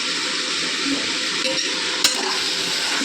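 Steady close sizzling of curry frying in a pan as garam masala is stirred in, with a continuous hiss and a single sharp clink of a utensil against the pan.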